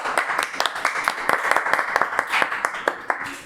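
An audience claps in a steady burst of sharp, close hand claps at a media profile event, ringing out loudly without speech.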